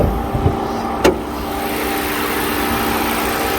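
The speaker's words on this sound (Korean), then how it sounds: "엔진 소리 한번 들어보겠습니다" A car engine idles with a steady, even hum, preceded by a couple of faint clicks and a brief sharp rattle near the start.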